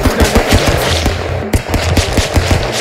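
Pistol fire in the Stick Fight video game: a dense run of sharp, rapid digital shots, loud and close, with a brief gap midway and no talking.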